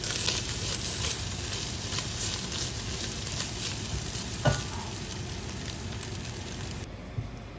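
Onion being stirred and sautéed in a pan for taco soup, a steady loud sizzle and crackle of frying with a scrape or two of the stirring spoon, continuous throughout.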